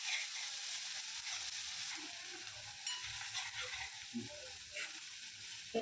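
Onion and garlic frying in a pan for a peanut bhajiya curry, a steady soft sizzle with occasional spoon scrapes and stirring clicks, close and fairly quiet throughout.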